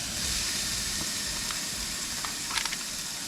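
Steady sizzle of food frying on a hot Coleman camping cooktop by a river, a continuous bright crackle with a few sharper pops near the end, heard close up with no talking.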